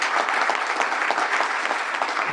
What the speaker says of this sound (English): that applause should be to the State Bar staff.